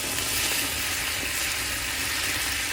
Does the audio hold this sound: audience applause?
no